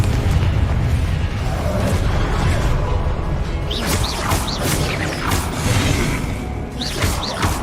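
Confringo fire spell explosions in the Hogwarts Legacy video game, loud and dense blasts with a rumbling low end, several sharp bursts landing in quick succession over continuous game noise.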